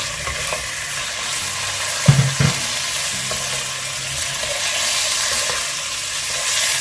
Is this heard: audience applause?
no